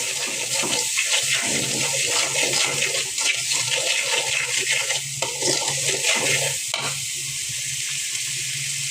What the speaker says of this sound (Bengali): অল্প একটু পানি দিয়ে দিলাম মশলা কষানোর জন্য।